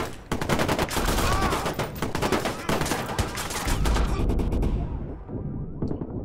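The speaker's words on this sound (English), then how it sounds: "Where am I being shot from?" Rapid bursts of gunfire in the Xbox One S game Watch Dogs, dense crackling shots and automatic volleys close by that cut off abruptly near the end.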